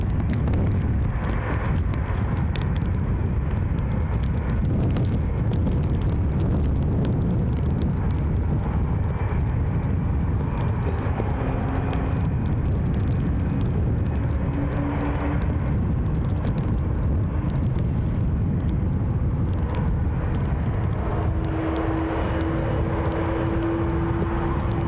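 A Boeing 787 Dreamliner jet idling after pushback at Newcastle Airport, a loud continuous engine roar and rumble with a faint whining tone rising partway through, heard outdoors in wind.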